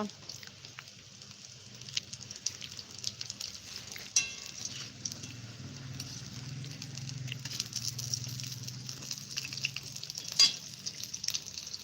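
Bhaji fritters frying in hot oil in a home kitchen, a steady soft sizzle with occasional crackles and utensil clinks, with faint voices in the background.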